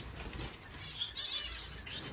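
A pet bird flaps its wings indoors in a short, soft flurry of fluttering beats, faint and close.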